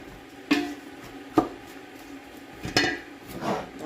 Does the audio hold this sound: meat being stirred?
yes